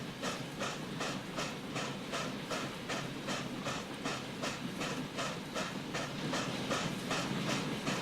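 A train rolls along a railroad in a video game, with a steady rhythmic clickety-clack and a hiss that keep up an even pace throughout, close and continuous, with no voices.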